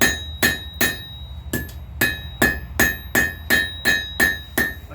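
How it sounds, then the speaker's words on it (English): Blacksmith's power trip hammer forging steel, a rapid steady series of sharp ringing metallic blows, loud and close, about two strikes per second with no talking. "that power hammer, that drove that out pretty good."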